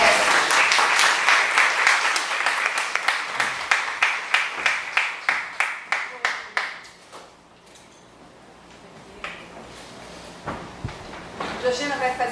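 An audience at a panel on LGBT people deprived of liberty claps for a guest arriving at the table, a loud burst of rhythmic applause that fades out, followed by a few scattered claps and soft voices.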